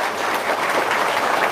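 Brief burst of applause from an audience, dense steady clapping throughout.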